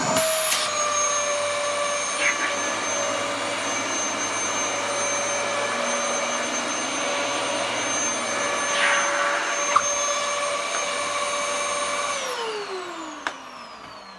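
A Dyson DC14 vacuum cleaner starts up and runs with a loud, steady motor whine and airy rush, then winds down as it is switched off near the end.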